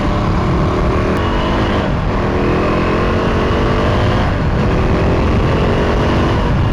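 KTM RC 390 motorcycle engine droning steadily while riding through traffic, holding around 6000 RPM through the gears, loud and continuous under heavy wind roar with no speech.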